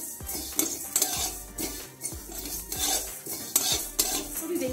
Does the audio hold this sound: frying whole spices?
yes